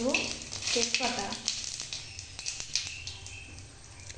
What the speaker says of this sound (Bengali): এবার দিয়ে দেবো তেজপাতা।